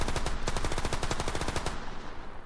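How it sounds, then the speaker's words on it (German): Rapid machine gun fire in the video game The Isle Evrima, a loud, close burst of evenly spaced shots lasting under two seconds, then fading into a short echo. "Dann haben wir ein Maschinengewehr auf der 2."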